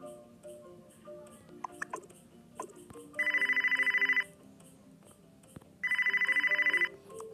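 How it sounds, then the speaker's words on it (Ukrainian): A phone ringtone plays two electronic trilling rings, each about a second long, separated by a pause, over quiet background rustling and faint tones. "Хто це до мене дзвонить?"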